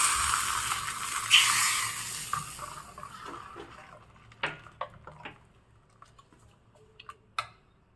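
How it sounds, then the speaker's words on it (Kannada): Ghee tempering of mustard seeds, dry chilli, hing and curry leaves sizzles in a pan, a bright crackling hiss loudest at the start that fades to sparse pops and ticks. "ತುಪ್ಪ ಸಾಸಿವೆ ಒಣಮೆಣಸು ಒಂಚೂರು ಇಂಗು ಕರಿಬೇವು ಹಾಕಿರೋ ಒಗ್ಗರಣೆ ಹಾಕ್ತಾ ಇದ್ದೀನಿ"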